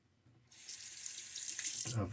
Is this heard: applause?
no